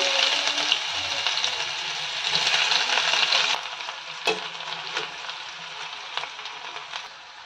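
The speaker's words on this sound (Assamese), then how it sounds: "গৰম হোৱা তেলখিনিত মই অকমান দি দিছো জিৰা এতিয়া কাটি থৈ দিয়া পিয়াজখিনি দি দিছো" Chopped onion with cumin seeds sizzles in hot oil in a home kitchen pan, a steady loud frying hiss that eases after a few seconds, broken by light clicks of stirring.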